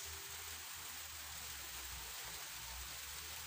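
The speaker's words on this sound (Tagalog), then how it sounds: "Ulan lang yan" Rain falling steadily outdoors, a soft, even hiss throughout with no distinct drops or other sounds standing out.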